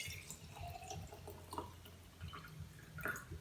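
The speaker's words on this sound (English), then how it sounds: "Add your water into that." Water pouring into a jar of raspberries for infused water, a quiet close trickle with small drips and splashes, low and steady, no voices.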